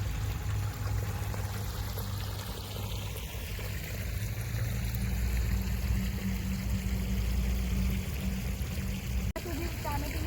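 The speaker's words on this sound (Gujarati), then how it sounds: "આ છે ને અમારા કૂવાનું પાણી આવે છે" Well water flows steadily from a long pipe, a continuous gushing and splashing with a low rumble underneath, with no pauses.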